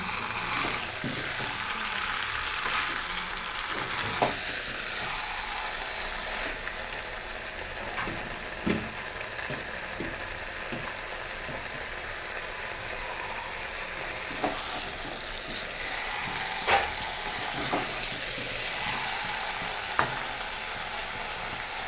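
Spices and ingredients stir-fry in a pan, giving a soft, continuous sizzle with occasional sharp clicks and scrapes of the spoon against the pan, heard alone at a modest level.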